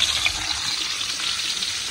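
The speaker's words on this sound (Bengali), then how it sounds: "আম্মু এখন মাছগুলো ফ্রাই করতেছে" Fish frying in hot oil for an outdoor village meal, a dense continuous sizzle and hiss, loud and close with no talk over it.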